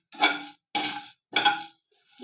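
Stuffed parwal (pointed gourd) filled with besan masala, made without onion or garlic, stirred and lightly fried in a pan, giving three separate bursts of spoon-on-pan scraping and soft sizzle with short pauses between.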